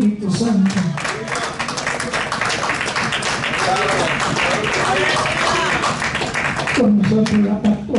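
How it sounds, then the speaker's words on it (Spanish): A church congregation applauds loudly, a dense sustained clatter of many hands filling the room, with voices speaking over the start and end. "Pero un aplauso fuerte al Padre y al Espíritu Santo."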